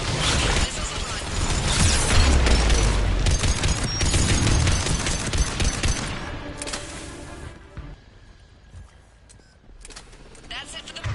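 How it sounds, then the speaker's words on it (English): Missile launches and explosions in the sci-fi shooter Mass Effect 3 form a loud, dense barrage of booms and blasts for about six seconds, then thin out to quieter rumbling and scattered impacts, with a voice talking over the action. "Missiles are hot."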